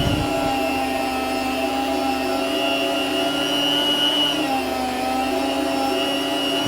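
A Borlebbi electric food slicer runs with a steady, droning motor whine and a constant mechanical hum, close and unbroken for the whole stretch, with a slight dip in pitch midway and no talking.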